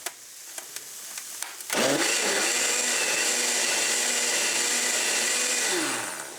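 A blender whirs to life blending homemade salsa, starting after a few light taps and running steadily and loudly for several seconds before winding down.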